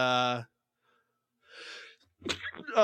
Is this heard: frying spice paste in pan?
no